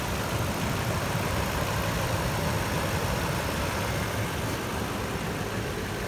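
A 2008 Toyota Sequoia Platinum 4x4 engine idles quietly and evenly, a steady low hum heard close up from the engine bay with no talking.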